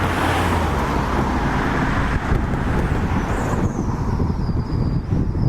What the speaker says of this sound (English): As usual, the speed limit is 50 miles per hour, but cars go much too fast.